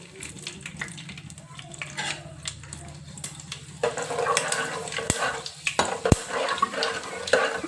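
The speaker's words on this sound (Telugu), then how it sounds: "జీలకర్ర ఆవాలు వేగినాక ఒక టీ స్పూను మెంతులు" Cumin and mustard seeds fry in hot oil for a tempering, with a soft sizzle first and then louder spattering crackles and a few sharp pops, no voices.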